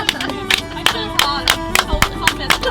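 A group claps for Jack in an even, repeated rhythm, each sharp clap close and distinct, over a low background of music and murmuring.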